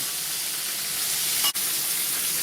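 Chicken wings for Buffalo wings frying in a pan on a stovetop, a steady loud sizzle and crackle of hot oil that runs evenly throughout with no talking.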